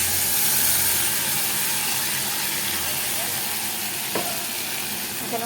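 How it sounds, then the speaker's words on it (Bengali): Ground spices go into a pan of fried onion, giving a strong, close, continuous sizzle and spatter with a faint stirring scrape, steady across the whole stretch. "এখানে দেখো পেঁয়াজটা ভাজা হয়ে গেছে। এবার আমি মশলাগুলো দিয়ে দেবো।"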